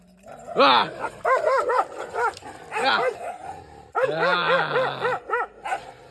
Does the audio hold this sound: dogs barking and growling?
yes